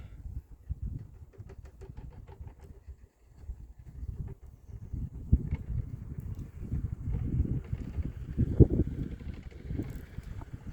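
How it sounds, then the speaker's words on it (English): Gusts of wind buffet the microphone with low, rumbling bursts that swell and fade irregularly, growing stronger toward the end. "it's a bit of a windy day"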